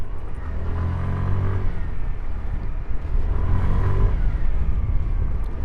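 Hero Xoom 125cc air-cooled scooter engine runs and pulls forward, a steady low drone rising slightly in two surges, close and fairly loud with no talk.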